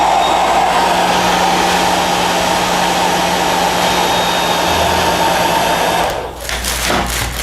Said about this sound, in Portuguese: Seca com o secador.